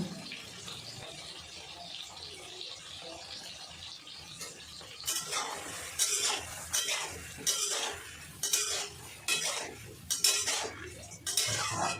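A spoon scrapes and clacks against a pan while a bottle gourd and prawn curry with turmeric and salt is stirred. Quiet at first, then a run of close, rhythmic scraping strokes in the second half, with no talking.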